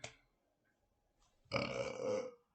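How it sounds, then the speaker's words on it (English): A single long, loud, croaky burp close to the microphone, preceded by a brief soft noise. "your boy gets burpy on a podcast, it just happens"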